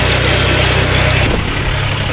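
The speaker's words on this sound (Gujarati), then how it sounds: "હિંગોળગઢનો સડા ચડવું હવે ટ્રેક્ટર લઈને" A tractor engine pulls uphill toward a hillside village, running as a steady, loud, low mechanical drone with a rhythmic throb that shifts slightly partway through, with no voices.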